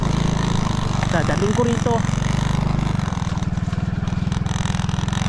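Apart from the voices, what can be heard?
Suzuki trail motorcycle engine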